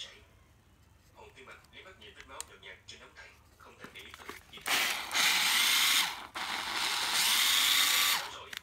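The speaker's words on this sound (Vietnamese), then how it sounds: "Số 13 là một con máy khoan 12V Nati có búa khoan tường nha mọi người." A used Nati 12V cordless hammer drill spins up loud and near in two sustained bursts with a brief pause between, following a stretch of quieter talking and handling clicks.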